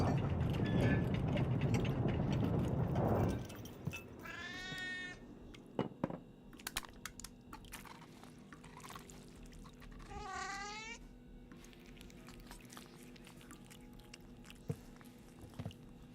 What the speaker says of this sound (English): There's the noise of our cat.